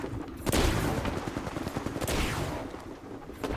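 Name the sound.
gunfire in the video game Apex Legends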